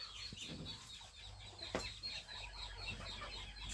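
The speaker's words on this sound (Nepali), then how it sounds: "हाम्रो यो तिहारको भाले हो" A rooster kept for the Tihar festival clucks in short, scattered calls over a faint outdoor background, with a sharper cry standing out midway through.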